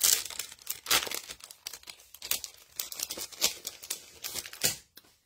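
Masking paper for card making is handled close by, giving repeated crisp crinkles, rustles and tearing sounds in irregular bursts.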